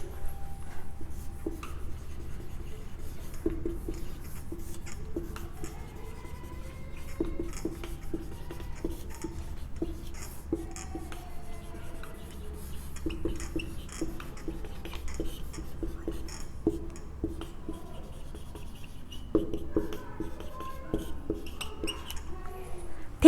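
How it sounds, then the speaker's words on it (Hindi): A marker or chalk writes on a board during a lesson, making faint, continuous scratchy strokes and light taps over a low room hum for about twenty seconds. "लिख देती हूँ।"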